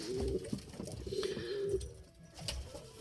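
Pigeons cooing in a loft, several close, soft repeated coos in a low rhythmic pattern over faint background rustling.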